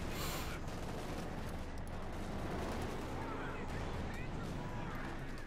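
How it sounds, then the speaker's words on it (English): Dense, continuous battle din from Company of Heroes 2, with artillery fire and gunfire rolling together at steady loudness throughout, thick and unbroken from start to end. "Artillery fires Germans and whatnot"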